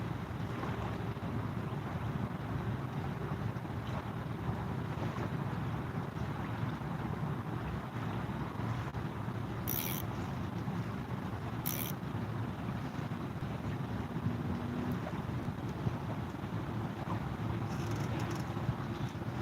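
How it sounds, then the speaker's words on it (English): Wind buffeting a microphone on a fishing boat, a constant low rumble and whoosh with hull and water noise underneath, steady and fairly loud for the whole stretch, with a couple of brief high clicks. "I really do wish this wind would quit blowing."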